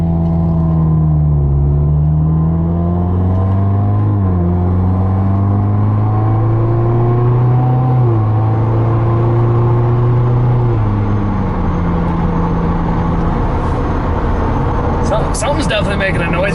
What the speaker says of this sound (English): we're going to try a baby pull because the engine ain't fully warm yet